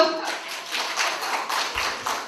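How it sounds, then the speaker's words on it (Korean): Audience clapping in a lecture hall during a special talk at a beauty and makeup academy in Gwangju, several seconds of dense, fairly loud applause with slight pulsing surges and no voices over it. "와, 박수!"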